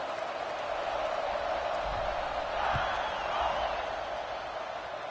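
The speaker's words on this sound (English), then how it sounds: "this crowd is buzzing after that last score" Crowd buzzing in College Football 26 after a score, a distant, steady stadium murmur that swells slightly midway, with no clear voices over it.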